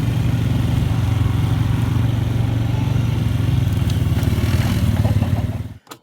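Steady buzzing drone of an ATV engine ridden by a child shifting through gears, loud and close, running evenly before cutting off abruptly near the end.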